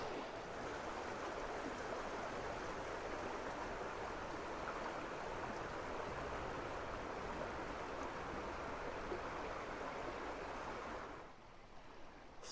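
Steady broadband rush of creek water tumbling over rapids and into pools in Arizona's Aravaipa Canyon wilderness, continuous and close, with no voices, briefly dipping quieter near the end.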